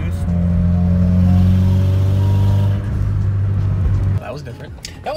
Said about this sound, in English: what it sounds like when you hit a little bit of boost